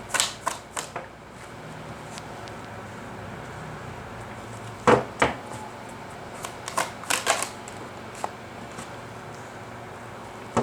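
Tarot cards shuffled and drawn close by, with crisp irregular snaps and flicks scattered over a quiet background, clustered near the start and middle, with no talk heard.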